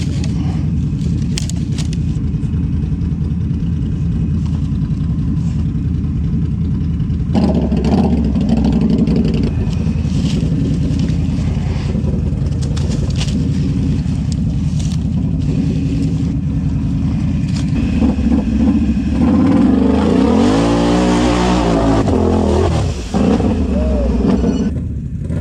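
A motorcycle engine runs in sport mode with a loud, steady drone close by. Its pitch rises and falls as it revs, and a stronger rev swells near the end.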